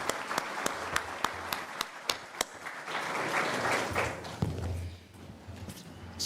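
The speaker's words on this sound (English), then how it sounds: "Can we applaud them for this?" Audience applause at a university water imbizo as leadership leaves the room: a few sharp, evenly spaced claps at first, then a swell of scattered clapping that fades toward the end, fairly quiet and distant.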